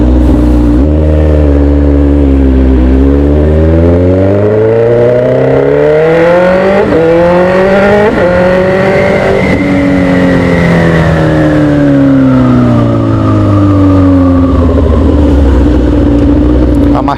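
A Suzuki GSX-S motorcycle with electrical problems misfires and idles high. The loud, close engine drone climbs and falls in pitch as the revs swell and ease back repeatedly.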